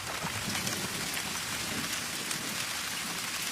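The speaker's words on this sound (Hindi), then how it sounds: "मैं इस बारिश का भरपूर फायदा उठाना चाहता हूं" Heavy rain pours steadily on a sandy beach with coconut trees, making a dense, even hiss that stays loud and unbroken throughout, with no voices.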